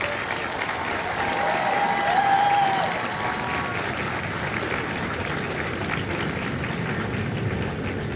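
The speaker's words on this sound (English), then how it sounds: "please join me in a round of applause for the company staff of Company I." Sustained clapping from a large crowd at a Marine Corps recruit graduation ceremony at MCRD San Diego, swelling slightly early on and then holding steady throughout.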